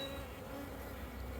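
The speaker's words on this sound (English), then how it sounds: "These bees are good at this." Honey bees at a backyard hive hum in a steady, close buzzing drone that holds evenly through the brief moment, with no voices.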